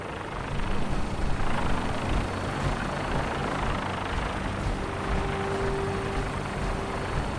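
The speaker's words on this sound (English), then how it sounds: "we have a vertibird on standby, fully armed and ready to depart" A Fallout 4 vertibird aircraft departs in the game, a loud, dense rotor and engine roar that rises sharply at the start and then holds steady, close and continuous.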